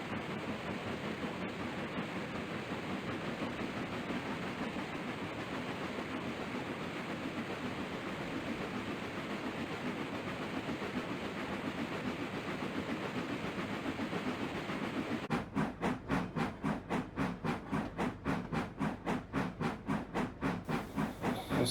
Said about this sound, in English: train number 257, the Rossland to Northport passenger train, going downhill, crossing the Big Sheep Creek trestle